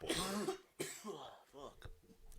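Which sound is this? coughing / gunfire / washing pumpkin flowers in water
coughing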